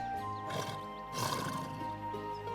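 A horse in The Sims 3 video game whinnies once, a rising then falling neigh over a steady background hum, with a faint snort near the end.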